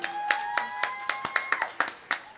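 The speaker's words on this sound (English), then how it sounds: "Let's give her a round of applause real quick." A small audience at a tech talk show claps for the YWCA Miami CEO, scattered hand claps in an irregular rhythm, fairly faint and thin rather than a full roaring applause.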